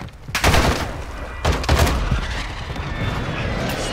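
Gunfire in a Call of Duty multiplayer match: two heavy bursts of rapid shots, a second apart, followed by sustained rattling combat noise. The shooting is close and loud, with a little faint talk mixed in.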